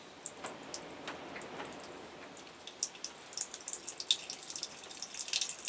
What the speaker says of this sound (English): So we'll pour. See what the syrup pours like.